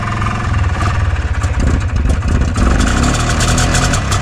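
Right after starting, a small engine with a homemade choke idles loud and close, a steady low chugging that turns slightly rougher and more uneven partway through, with no voices.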